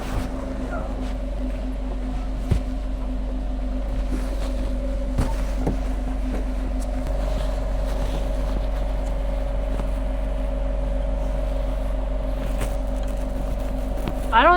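Low steady drone of a boat engine idling and easing into forward gear on the ocean, constant and fairly near, with faint wind and a few knocks over it.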